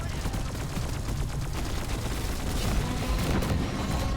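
In Deep Rock Galactic, a weapon fires at a creature with dense, rapid gunfire in sustained bursts and heavy booming impacts, all loud and continuous.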